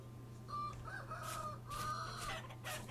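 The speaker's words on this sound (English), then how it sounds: "I do hear chickens" Chickens clucking in Vintage Story, several short clucks and a drawn-out crowing call over a steady low background hum, fairly quiet and nearby.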